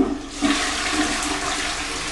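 A toilet in a cottage bathroom flushes close by with a loud rushing gush of water that holds steady for about two seconds.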